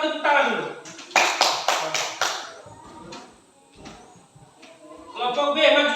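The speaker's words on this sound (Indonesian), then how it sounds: "kalau sama tepuk tangan dulu." In a school coding and artificial intelligence lesson, a class claps in a quick rhythmic run of about half a dozen sharp, close claps, with talking before and after.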